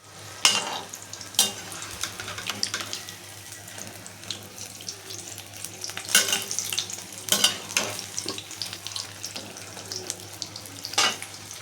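Stuffed green chillies dipped and frying in hot oil, a steady crackle with sharper bursts of sizzle and splashing every few seconds, close and fairly loud, no talking.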